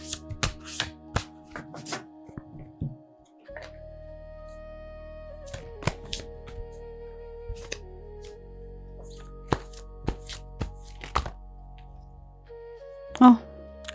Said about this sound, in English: Let me shuffle while you decide.